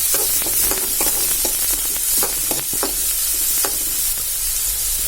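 Onions sautéing in oil with dried red chilies for a Tamil sweet and sour raw mango pachadi, a steady close sizzle with repeated spatula scrapes and stirring clicks throughout, no talking.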